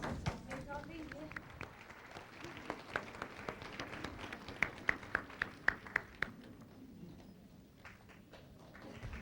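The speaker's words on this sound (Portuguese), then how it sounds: "Pelos aplausos, julgo que a mestra está a chegar." Audience applause greets the arrival of Master Ching Hai at a large gathering, a steady crowd clapping with scattered sharper claps, mostly under continuous interpreters' voices speaking over it.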